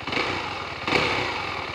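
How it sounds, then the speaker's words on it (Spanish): A 2022 KTM 390 motorcycle with a newly designed exhaust idles steadily nearby, a smooth continuous engine drone with one brief rise in loudness near the middle. "ese es el sonido de una 390"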